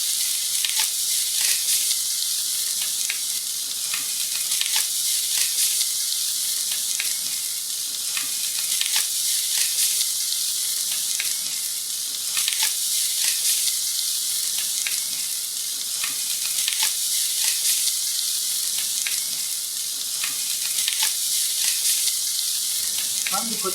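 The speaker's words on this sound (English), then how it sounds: "We're going to take what's left of the remaining braising liquid, reduce it down into a barbecue sauce." Leftover brisket braising liquid bubbling and reducing into barbecue sauce, a steady bright hiss and sizzle with occasional crackles and stirring, sustained throughout at moderate loudness with no speech.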